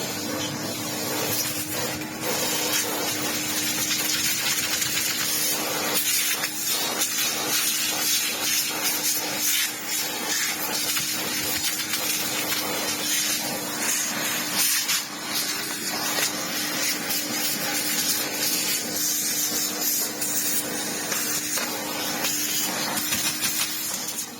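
A vacuum runs continuously while cleaning hair from a Dreame robot vacuum, producing a steady loud hiss and whoosh with a faint constant hum underneath and occasional small scraping shifts.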